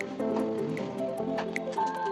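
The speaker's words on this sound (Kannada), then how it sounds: "ಇವಾಗ ಸ್ಮೂದಿನ ಒಂದು ಬೌಲ್ಗೆ ಹಾಕೋತಾ ಇದ್ದೀನಿ." Thick kiwi and banana yogurt smoothie is poured from a blender jar into a bowl, giving soft wet squishes and small drips that run continuously for a couple of seconds, quiet and close.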